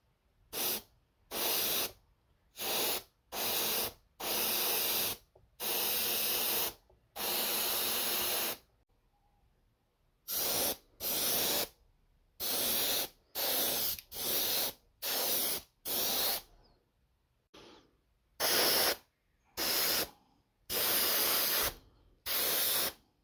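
Spray can bursts laying a final chrome coat onto a Colt Python revolver, about fifteen separate hissing sprays of roughly half a second to two seconds each, close and loud, with short silent gaps between them.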